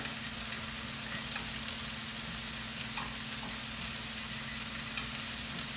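Vegetables with garlic and ginger paste frying in a pan for hibachi chicken, a steady close sizzle and crackle running throughout with a low constant hum beneath and no talking.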